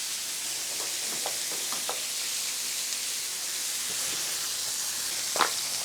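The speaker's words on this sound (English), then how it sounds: "Introduce some butter into the cooler zone." Butter and onions fry on a hot griddle in a loud, continuous hissing sizzle with scattered crackles and a brief louder pop near the end, heard alone without voices.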